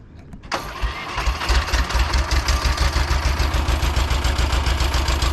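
A Ditch Witch 2300 diesel engine, freshly fitted with a new fuel pump, fires up with a sharp start and settles into a steady, loud, close idle with an even throbbing rhythm.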